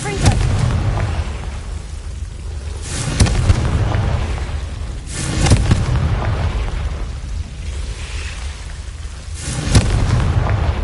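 Repeated heavy booms from a Confringo blasting spell in Hogwarts Legacy on PS5, a handful of explosive bursts spaced a few seconds apart over a constant low rumble of game ambience.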